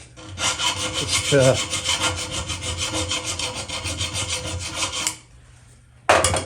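Close, loud continuous rasping as a file smooths the rough edges of a freshly drilled 5mm hole in a fabricated metal exhaust baffle, running steadily for about five seconds, then a brief pause and a resumed stroke.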